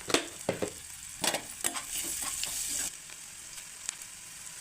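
Cumin, turmeric and curry leaves crackle and sizzle in hot oil for a chicken liver fry, with several bursts of spattering close up that settle into a quieter hiss, and no speech.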